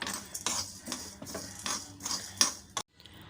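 Coriander seeds, lentils and pepper being dry-roasted and stirred in a pan over medium heat, with a series of sharp metal spoon scrapes and clinks in an irregular rhythm before a sudden stop.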